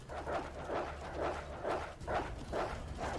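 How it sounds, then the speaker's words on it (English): Zombie dogs in Resident Evil 2 Remake bark and yip in a rapid, regular series of about seven calls, fairly faint and close together over low game rumble, with no talking. "There's a lot of dogs on this bit. There's too many goddamn dogs."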